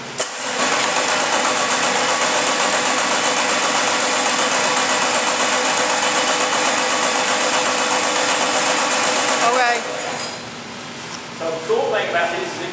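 A car engine cranked and running during a Snap-on AVR test, a loud, steady mechanical drone with a continuous buzzing roar that stops abruptly near the end, followed by brief voices.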